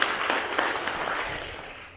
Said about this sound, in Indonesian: tepuk tangan untuk tim PDKB Sorong.